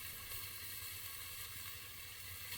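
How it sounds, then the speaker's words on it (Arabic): Lamb fat fries in a pan with chili, pepper and garlic, giving off a steady, faint sizzle and hiss with a low crackling bed, unbroken and without speech. "ديرهم هكا، خليهم يتقلوا شوي"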